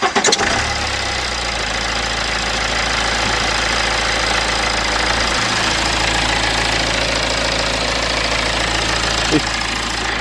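BMW car engine cranks and fires right after an oil change, then settles into a steady, close idle that holds evenly without revving.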